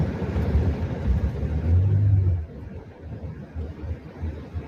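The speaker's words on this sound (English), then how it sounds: "my car's like, whoa. I mean, it sounds like I'm in a Maestro Ferrari. I'm not. I'm in like a SUV." An SUV's engine rumbles and revs loudly from inside the cabin while driving, swelling to a heavier roar midway before easing back to a steady low drone.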